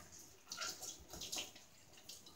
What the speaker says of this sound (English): While that's getting ready to boil, we're going to wash our squash.